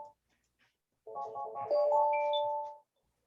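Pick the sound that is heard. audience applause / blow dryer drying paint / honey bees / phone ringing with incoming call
phone ringing with incoming call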